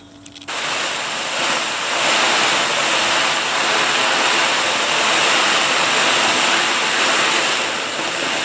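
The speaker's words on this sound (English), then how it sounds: "So we're going to get the hose on and see how it goes." Garden hose sprays water steadily onto a bushcraft tarp outdoors, producing a continuous broadband hiss and patter that starts abruptly and holds loud and even for several seconds.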